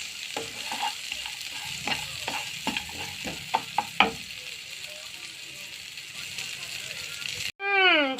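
Continuous sizzle of raisins, peanuts and almonds frying in hot ghee, with a spatula scraping and tapping the pan repeatedly; a brief whistling squeal cuts in at the end.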